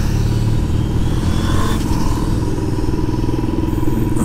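Motorbikes ride past from behind on a road up a volcano in Tenerife, a continuous loud engine drone with some revving and rattling, heard close from a moving vehicle with heavy wind rumble.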